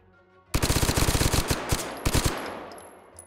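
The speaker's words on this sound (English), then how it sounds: "This is on full auto." Rapid full-auto gunfire in the VR shooter Hot Dogs, Horseshoes & Hand Grenades: a loud, close burst of fast, evenly spaced shots lasting about two seconds, then a few final shots and a fading echo.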